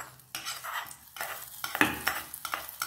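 A spoon stirring chopped curry leaves into Kanchipuram idli batter, wet swishing strokes in a steady rhythm with a few light clinks against the vessel, close and soft, no voices.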